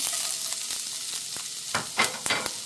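Ginger and garlic sizzle steadily in oil in a pan while a spatula stirs and scrapes, with a few louder clanks toward the end; no one speaks.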